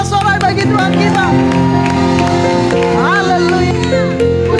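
A church congregation at a Sunday worship service loudly shouts and cheers praise to God, many voices rising together with clapping over a continuous, full-volume crowd roar.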